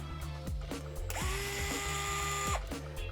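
A fitting is tightened on a budget build, producing a quick run of small ratcheting clicks and a brief whirring mechanical tone. The sounds are close and moderately quiet, with no one speaking.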